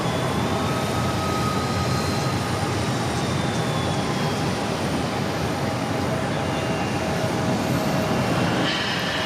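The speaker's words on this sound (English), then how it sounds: "I always love the engine start noise." An airliner jet engine spools up at Phoenix airport, a loud steady broadband roar with faint rising whine tones running throughout, heard from nearby with no talking.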